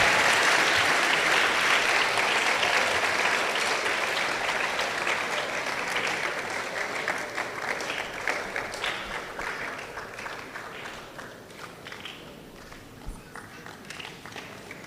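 An audience at a formal memorial lecture applauds a speaker, producing a dense, loud wash of clapping that gradually thins and softens into scattered claps over about fifteen seconds.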